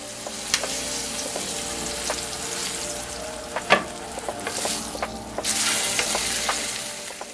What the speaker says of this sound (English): keep your salmon in the pan for a while to continue to sear and develop that crust